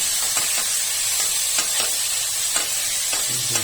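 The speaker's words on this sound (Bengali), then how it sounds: "এর ভিতরে ঢেলে এগুলোকে একটু নাড়িয়ে নিচ্ছি তেলের সঙ্গে" Ingredients stirred through hot oil in a pan for an Indian taro-root yogurt dish, giving a loud, bright sizzle that runs continuously, with soft scraping strokes of the spoon recurring every half second or so.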